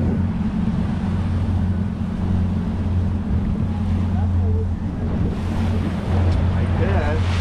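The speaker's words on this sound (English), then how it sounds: "We're gonna turn the boat around here and drive towards it." Steady low engine drone of a boat moving over the ocean off South Florida, with wind buffeting and sea wash throughout, loud and continuous.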